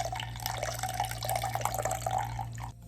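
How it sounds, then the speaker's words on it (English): Water is squeezed out of a soaked beauty blender makeup sponge into a cup, a close, continuous splashing trickle lasting a couple of seconds over a steady background hum before stopping abruptly. "Watch me squeeze it into the cup"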